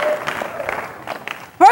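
An audience clapping at an evening talk, a soft, thin patter of applause with a voice speaking over it, ending in a brief louder vocal burst.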